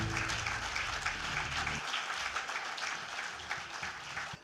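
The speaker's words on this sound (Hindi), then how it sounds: "मित्रों, एक बार तालियां थोड़ा मिलके बजेगी, जोर से बजेगी तो अच्छा लगेगा।" Audience applause at a school awards event, a dense continuous wash of clapping held steady throughout, with a low hum dropping away partway.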